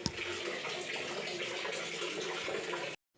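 Water gushing steadily from a small household geyser tap, a loud close continuous splashing flow that stops abruptly near the end.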